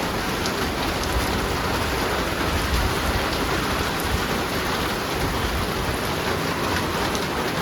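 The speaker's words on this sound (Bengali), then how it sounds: "প্রচুর বৃষ্টি হইতেছে আমাদের এখানে।" Heavy rain pours down steadily in Kishoreganj, a dense, unbroken hiss of drops striking surfaces that holds an even loudness throughout, with no voices.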